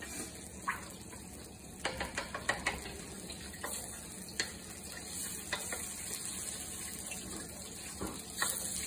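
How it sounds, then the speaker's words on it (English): Quiet, steady sizzling of oil in a pan with occasional scraping stirs and soft clinks. "And you need it now to start the sizzle."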